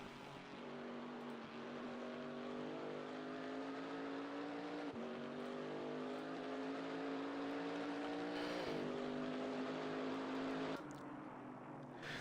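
Race cars on track during a 24-hour qualifier, including a Porsche and a Camaro, engines holding a steady loud drone with rising pitch through gearshifts, heard at a distance under commentary-free ambience.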